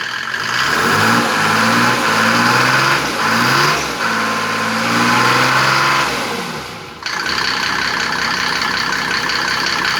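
A Mercedes OM603 3.0-litre diesel engine driving a PN-40 irrigation pump revs loudly. The engine rises and falls through several surges, then drops abruptly and settles into a steady run.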